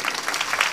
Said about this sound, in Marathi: टाळ्या वाजवा ना जोरदार.